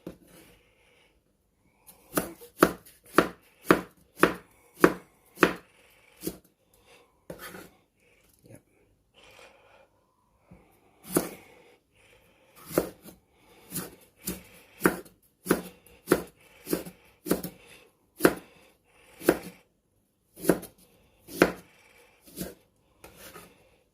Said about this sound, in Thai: ซอยบักเลือใส่ไปเลยครับ